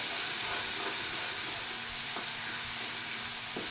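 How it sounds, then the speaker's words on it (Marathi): A ground paste of coconut, garlic, ginger and coriander frying in oil: a dense, even sizzle and hiss close up with a few faint clicks of stirring. "ते वाटण टाकून घेत आहे याला तेलामध्ये चांगलं परतून घ्यायचं आहे तेल सुटेपर्यंत"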